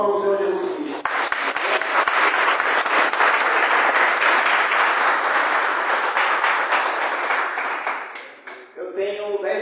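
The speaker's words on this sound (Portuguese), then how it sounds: "Pode dar uma salva de palmas para o Senhor Jesus Cristo." Church congregation applauding for Jesus Christ during a sermon, a sustained dense wash of clapping from many hands for several seconds before fading, with a preacher's voice at the start and end.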